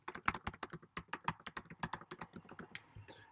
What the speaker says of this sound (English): I will type in the URL of my website